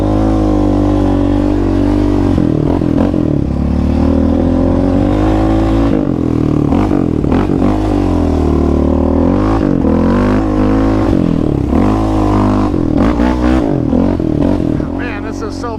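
Yamaha Raptor 700 ATV engine roars steadily while riding through a dusty private park, with revving surges and throttle shifts across the ride, loud and close, with a voice talking over it.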